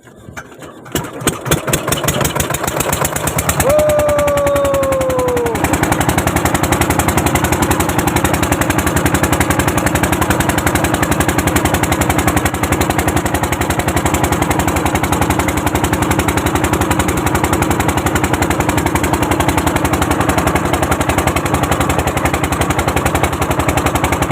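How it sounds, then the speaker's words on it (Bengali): A boat engine on a river in the Sundarbans starts up with a sputtering burst, then settles into a loud, steady mechanical drone that runs without a break. "আমার বড় ভাই মেশিন স্টার্ট দিচ্ছে"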